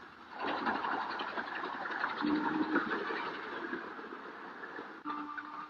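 A steady rumbling train climbs through tea gardens near Darjeeling, a broad mechanical clatter and drone filling the whole stretch without pause.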